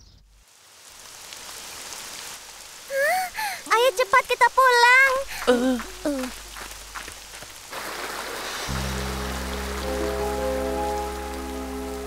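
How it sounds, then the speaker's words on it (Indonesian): Steady rain patters throughout an animated scene, with children's voices talking and calling over it before a low sustained tone rises late. "Wah, hujan."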